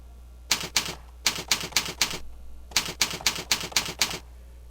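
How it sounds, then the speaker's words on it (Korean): Text being typed on a computer keyboard: close, clear key clicks in quick bursts of three to six strokes separated by short pauses, alone with no voices. "글자를 입력을 해볼까요?"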